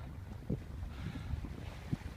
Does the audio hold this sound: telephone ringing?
no